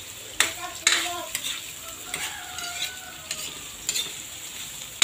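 Carrots sauté in a pan with a steady crackling sizzle, broken by sharp scraping clicks of a utensil stirring against the metal, close and moderately loud.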